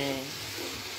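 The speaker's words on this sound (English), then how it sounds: "I can hear it sizzling." Chicken and okra sizzle steadily in a frying pan, a soft, continuous crackling hiss that stays close and even throughout.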